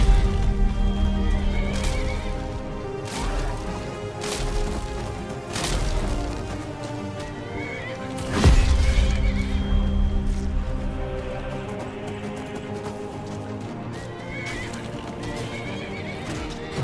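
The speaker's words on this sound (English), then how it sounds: "Oh no, a goblin's attacking my horse." A horse in the video game Skyrim whinnies and neighs repeatedly under attack by a goblin, with clip-clopping hooves, thuds and impact crashes mixed in amid game ambience, loud and close, and no talking over it.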